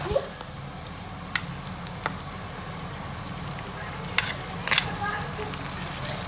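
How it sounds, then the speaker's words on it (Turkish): Peppers being stirred into kokoreç frying in a pan at home, a steady close sizzle with a few sharp clicks of utensil against pan and a brief louder scraping burst near the end. "Şimdi bunu güzelce karıştıralım"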